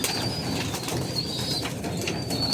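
Pigeons in a newly built loft, with wings flapping and fluttering and faint thin calls over a steady background, the birds close by and no one talking.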